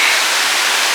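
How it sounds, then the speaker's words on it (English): Waterfall seen from above while abseiling, a loud, dense and steady roar of rushing water heard alone for under a second. "that's the waterfall"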